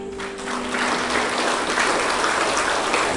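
A church congregation at a women's interdenominational revival meeting in Malaysia applauds and cheers for God, a steady, dense wash of clapping from a large crowd that swells and holds throughout.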